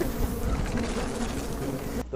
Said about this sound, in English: Don't mess up with the bees